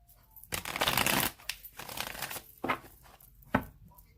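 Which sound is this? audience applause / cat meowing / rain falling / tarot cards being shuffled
tarot cards being shuffled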